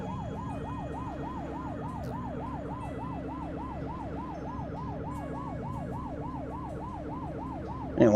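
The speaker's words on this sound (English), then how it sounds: "I didn't want my sirens to sound like Roscoe P. Coltrane at the bottom of a pond." A police siren in the video game The Precinct wails, rising and falling in a steady, rapid cycle, loud and close, over a constant engine-like hum, with no talking.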